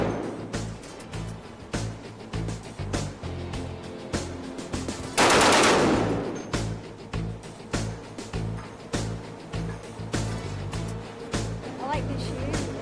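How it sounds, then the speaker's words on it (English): Aboard the USS Constellation, a .50 caliber machine gun fires in steady rapid bursts, loud and close, over a constant low rumble of the ship, with one brief louder blast partway through. "Old and young Tigers showed up for the 50 caliber shoot."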